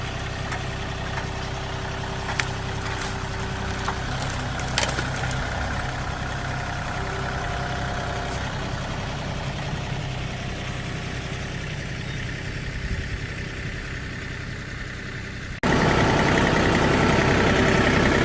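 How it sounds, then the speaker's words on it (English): A tractor fitted with a brush crusher runs with a steady low engine drone, close and continuous, and grows noticeably louder and rougher near the end. "put on the brush crusher, and then go move those brush piles"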